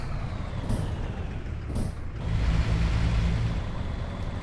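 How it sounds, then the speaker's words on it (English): A Scania 143M truck in Euro Truck Simulator 2 idles and pulls away with a low, rumbling engine note, two short hissing air-brake bursts early on, then the engine swelling louder as it moves off. "Listen to that truck."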